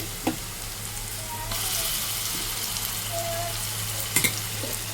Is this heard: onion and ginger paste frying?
yes